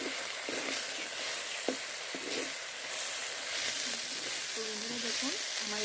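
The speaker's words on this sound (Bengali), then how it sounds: "ভালো করে নেড়ে চেড়ে ভেজে নেব।" Flat beans being stir-fried with salt and turmeric, giving a steady soft sizzle with occasional scraping stirs. A faint voice is briefly audible beneath the frying.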